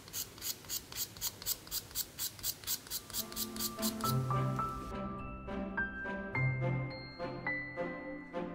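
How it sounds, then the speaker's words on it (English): A craft blade edge scrapes a stick of chalk so it falls as powder onto paper, a quick, steady series of rasping strokes, close by, that soon gives way to sustained musical tones. "with the edge of my blade, I'm just going to scrape myself off a little bit of the chalk to put it into a pile here"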